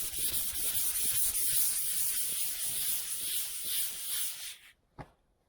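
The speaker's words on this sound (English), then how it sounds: "just sand it like this, and kind of go back, kind of in a diagonal circular motion" Hand sanding the primer coat on a 1972 Chevy Nova makes a steady, close scratchy rasp of continuous strokes that stops abruptly near the end, followed by a single faint knock.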